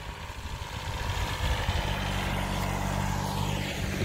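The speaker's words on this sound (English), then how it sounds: "Don't run me over with the tractor." A farm tractor engine runs steadily while moving snow, a loud, continuous low rumble with a faint hum that swells slightly and holds close throughout, no voices over it.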